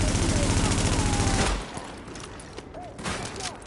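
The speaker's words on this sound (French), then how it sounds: "Il y a un type qui me tire dessus," Rapid automatic gunfire in the shooter game The Division rattles loudly for about a second and a half, then stops, leaving quieter game ambience with a few faint thuds and brief tonal cues.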